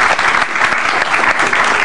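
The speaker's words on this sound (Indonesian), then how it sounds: "Boleh tepuk tangan untuk Mas Ajis Doa" A live audience at a stand-up comedy battle show in Indonesia bursts into loud, dense applause for a comic, a close and continuous roar of clapping that fills the short moment.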